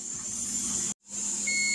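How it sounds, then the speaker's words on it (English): A kitchen timer beeps while black beans are pressure canned, a single thin electronic tone near the end over a steady hiss and hum of the canner, with a brief dropout before it. "now there's the timer"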